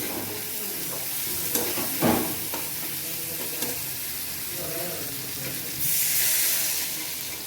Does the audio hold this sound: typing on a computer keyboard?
no